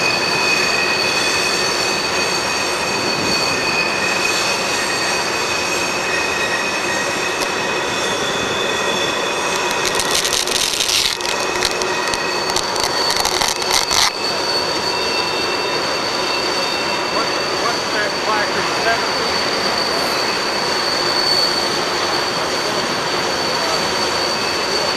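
A Norfolk Southern freight train with an Interstate heritage unit locomotive passes close by, its steady loud rumble of rolling wagons lasting throughout, with bursts of squealing wheels midway and a horn-like tonal hum over the noise.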